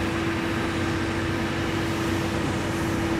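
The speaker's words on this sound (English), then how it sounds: "what you're hearing is the tractor cleaning up the cycling path." A steady mechanical drone of a tractor cleaning a cycling path at Amsterdam Schiphol Airport, with a constant engine hum and broad noisy rumble, unchanging throughout.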